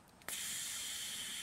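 Steady hiss of air rushing out of the pressure-regulating valve hole on the fuel tank of a faulty Chinese BRS-12A gasoline stove after pumping. It starts abruptly and holds loud and close to the end.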